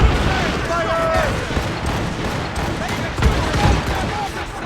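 Ship cannons firing a broadside in Assassin's Creed Rogue, a dense rolling barrage of heavy booms with loud low-end thumps across the whole stretch, a shouted crew voice rising over the battle noise.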